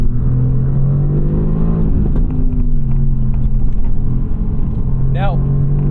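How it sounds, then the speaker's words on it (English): 2018 Mercedes-AMG GT R turbocharged engine downshifting and accelerating, a loud continuous engine drone with quick shift changes and a sharp rising rev near the end, with talk running over it. "it's downshifting for me just the way that I would want"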